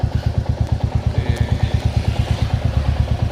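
Royal Enfield Classic 350 motorcycle engine running close by, a loud, even single-cylinder thump repeating rapidly in a steady idle rhythm, with no talking.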